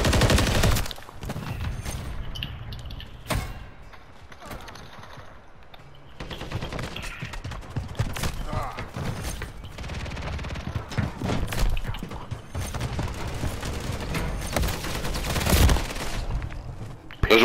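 Heavy gunfire from a military shooter video game: bursts of automatic fire and scattered single shots, loud and close, pausing briefly and then resuming in clusters amid a busy battle din.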